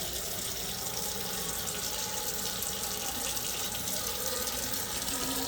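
Water runs steadily from a kitchen tap into a sink as it is refilled to keep cut peaches from browning, a continuous close splashing rush with no voices.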